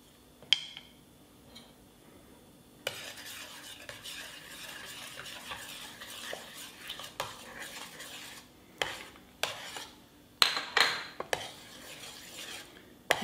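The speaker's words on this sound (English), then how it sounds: "I put the cinnamon, nutmeg and cloves together in this small bowl, which I'll now stir into the mixture" A spoon stirs cinnamon, nutmeg and cloves into a honey-butter mixture in a bowl, giving soft scraping swirls punctuated by sharper clinks against the bowl, fairly quiet and close.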